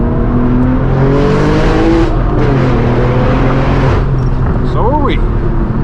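A straight-piped car at a Los Angeles car meet revs and accelerates hard, a loud continuous engine roar with rising pitch sweeps near the end, while people talk over it.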